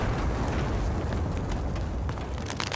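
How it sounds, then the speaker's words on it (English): A detonated charge explodes in a video game as a deep, rumbling boom that sustains loud and heavy, with low roar and scattered crackling debris across the whole stretch. "Target marked. Detonated it."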